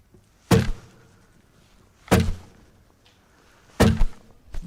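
Three sharp, heavy percussive hits on a guitar body in a song, evenly spaced about a second and a half apart, each with a short ringing decay, imitating gunshots.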